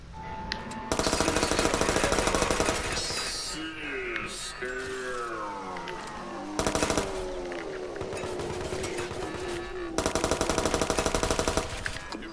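Rapid automatic gunfire from a video game, fired at a target in loud sustained bursts of dense rattling shots, with stretches of game effects and creature noises between the volleys.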